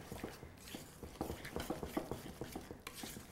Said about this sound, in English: So let's just whisk this up and take a look.